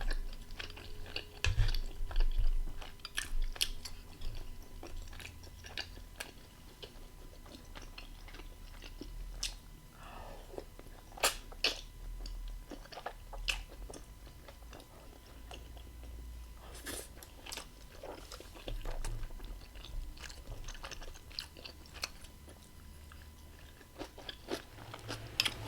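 Chewy food being eaten up close during a mukbang, with repeated wet crunching, biting and chewing sounds in an irregular rhythm throughout, and no talking.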